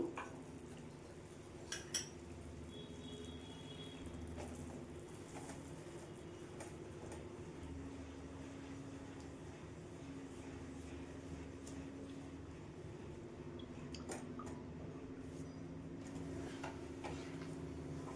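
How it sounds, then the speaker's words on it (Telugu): Ghee-mixed gram flour batter being stirred into sugar syrup in a pan on a low flame for Mysore pak, a faint, steady bubbling hum with a few light metallic scrapes and clinks of the utensil, no voices. "ఇప్పుడు మనం నెయ్యిలో కలిపి పెట్టుకున్న శనగపిండి బ్యాటర్ని దీంట్లో పోసేసుకుంటూ ఉండలు లేకుండా కలుపుకుందాము."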